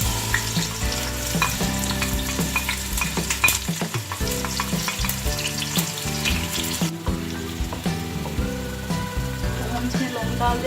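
Onions fry in a cup of oil in a cooking pot, with a steady sizzle broken by scraping and stirring clatter from a utensil, close and busy throughout with background music.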